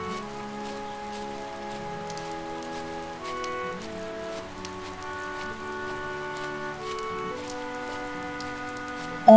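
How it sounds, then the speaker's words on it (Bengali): Rain falls steadily in a cartoon, a soft, even patter running the whole stretch beneath a prominent tuneful background music score, with no voices. "দেখছো তো বৃষ্টি থামার কোনো নামই নেই।"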